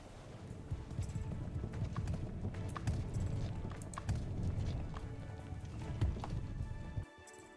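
Rapid, uneven horse hoofbeats clatter in a galloping rhythm in a video game, fairly quiet and continuous, then cut off abruptly near the end.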